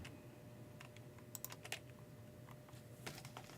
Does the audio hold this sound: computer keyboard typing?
yes